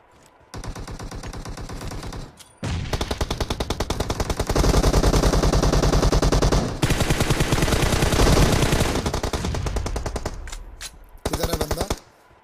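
Automatic gunfire in the battle-royale game BGMI, loud and close, with long sustained bursts of rapid shots separated by brief pauses and a final short burst.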